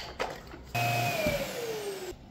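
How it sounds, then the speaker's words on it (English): A Roborock S8 Pro Ultra dock runs its auto-empty cycle on a robot vacuum after an air duct blockage is cleared, a loud steady suction whine with a falling tone that starts abruptly and cuts off, preceded by faint clicks. "Now let's put the vacuum back on it and make sure it empties okay."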